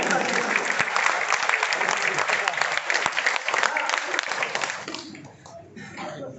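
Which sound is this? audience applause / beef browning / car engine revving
audience applause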